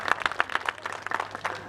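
An audience bursts into brief, brisk applause at a school event honouring freedom-struggle martyrs, dense clapping filling the short moment close by.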